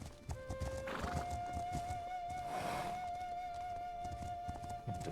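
A horse in a video game whinnies loudly with a long rising neigh while hooves clip-clop steadily beneath it, alone without talk.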